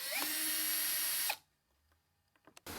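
A power drill runs steadily on a vintage 1960s Fender Stratocaster for over a second, loud and close, then spins down into near silence before brief clicks and another burst of drilling.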